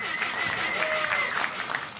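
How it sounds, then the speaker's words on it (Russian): Audience at an RCC Hard bare-knuckle fist fight event applauds and cheers steadily as a fighter is introduced, a dense wash of clapping with crowd noise and an announcer's voice over it. "Матвей Тикиджиев, ваши аплодисменты."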